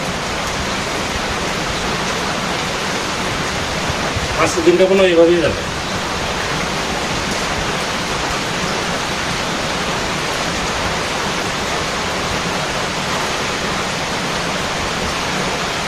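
Heavy rain pours down in a steady, even roar, with a voice briefly speaking partway through.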